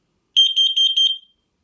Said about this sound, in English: Testing carbon monoxide.